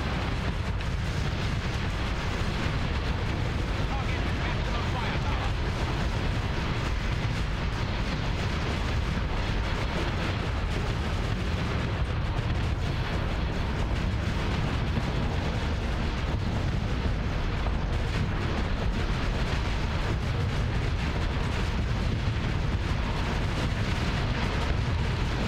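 Ship weapons in the game Starsector fire at fighters and a space station, a constant loud wash of explosions and rumbling bursts layered densely throughout with no pauses.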